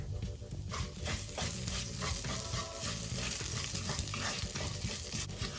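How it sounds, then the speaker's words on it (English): Spoon stirring coriander, turmeric and fresh ginger in a pot, with a steady sizzle and soft scraping strokes repeating close by, alone without talk. "continue to stir for about another minute to ensure that you don't burn any of the ingredients"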